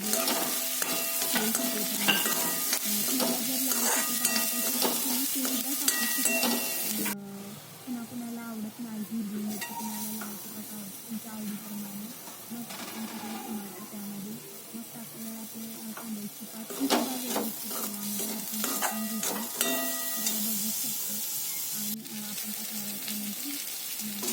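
An onion and ground masala paste stir-fries in oil with a loud, continuous sizzle and repeated scraping stirs, easing briefly midway before building again.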